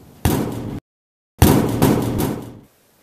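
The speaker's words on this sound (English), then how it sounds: "To make thunder, you would just bang your fist against a washing machine." Foley thunder made by banging a fist against a washing machine, two loud, close booming thuds with a short silence between them, the second longer and rumbling.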